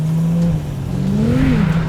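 A high-performance sports car driving in the rain on a rough, nasty road surface, its engine holding a steady loud drone that rises and falls briefly with revs, with wet tyre hiss underneath.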